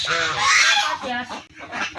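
Domestic geese honk loudly and close by for food, a rough overlapping chorus of nasal calls with brief pauses between bursts.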